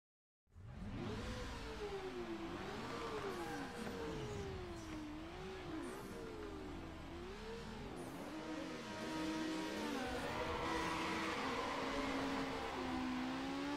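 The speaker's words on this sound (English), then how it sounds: "Rotary engine drag, huh? RX-7 drag race." A Mazda RX-7 rotary engine revs hard through a drag race in Need for Speed Underground, its pitch climbing and dropping through repeated gear shifts, loud and continuous throughout with no talk.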